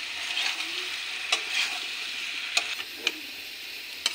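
A soybean, potato and onion filling sizzles softly in a pan while a spoon stirs it, with a few sharp clicks of the spoon against the pan over the low, steady frying hiss.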